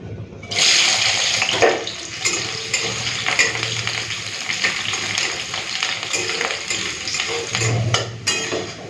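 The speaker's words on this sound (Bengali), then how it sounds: "প্রথমে পেঁয়াজ রসুন কাঁচা লঙ্কাটাকে ভেজে তুলে রেখে দিই" Onion, garlic and green chilies fry in hot mustard oil with a loud, close, continuous crackling sizzle, broken by a few sharper spatters and scrapes.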